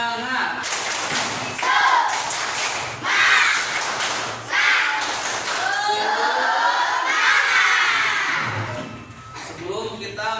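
Schoolchildren in an elementary classroom perform a rhythmic tepuk semangat clapping chant, loud bursts of claps mixed with shouted group voices in a repeating pattern.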